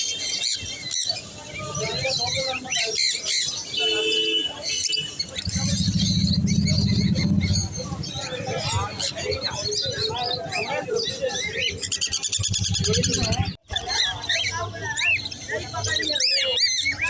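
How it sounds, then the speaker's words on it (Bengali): Budgerigars and cockatiels at a bird market call and chirp continuously in a dense chorus, with a seller talking loudly over them. "বদ্রি আর ককটেল আছে, দেখে নাও।"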